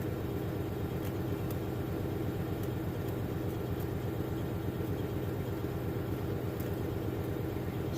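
A truck engine idles steadily on a cold day, a constant low rumble with a faint tick, close and unbroken, with no talk.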